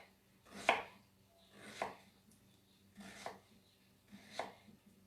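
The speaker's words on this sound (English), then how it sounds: "And then I slice down the thickness that I want." A knife slices down through a held-together onion on a cutting board, four distinct crisp cuts spaced about a second apart, close and quiet with near silence between strokes and no speech.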